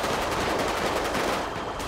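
Rapid automatic gunfire in the GTA 5 video game, a dense, loud, continuous rattle of shots lasting the whole two seconds with no voices over it.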